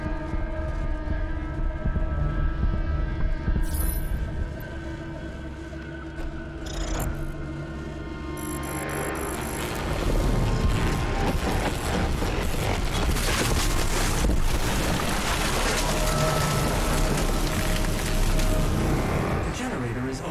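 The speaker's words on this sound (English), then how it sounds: "The generator is overloading." Generator overloading in DOOM Eternal's Super Gore Nest level: a loud, sustained rising machine drone with siren-like wailing tones that swells into a dense, roaring surge after about ten seconds, with a game voice announcing over it.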